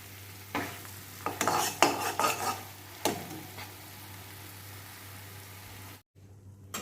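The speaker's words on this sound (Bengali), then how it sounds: "তেল ছাড়ছে এরপরেই আমি গোটা ভিজে রাখা ফুলকপিটা দিয়ে দেবো" A whole soaked cauliflower goes into hot oil with a burst of crackling sizzle, followed by a few sharp stirring scrapes in the pan, then the frying settles to a quieter hiss over a steady low hum until it cuts off abruptly near the end.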